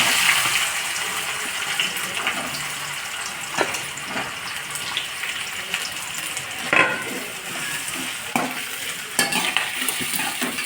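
Chopped onions sizzle steadily in hot oil and ghee for a chicken pulao, a broad continuous hiss with occasional louder stirring scrapes, close and alone without speech.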